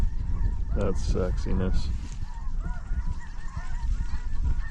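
Flock of Ross's geese honking overhead in flight during a waterfowl hunt, a busy chorus of calls strongest in the first two seconds, with hunters talking quietly underneath.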